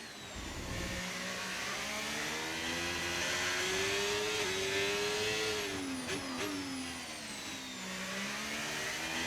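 F1 race car engine in a racing video game on a qualifying lap at the Texas Grand Prix, a high-pitched whine that rises and falls through gear shifts, loud and continuous with no talking.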